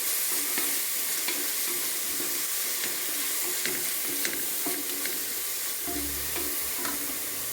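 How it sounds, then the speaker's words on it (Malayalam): Onions sauté in a pan with salt, a continuous close sizzle and hiss with occasional stirring scrapes and clinks, no talking. "സവാള ഒരുവിധം ഒന്ന് വഴലട്ടെ."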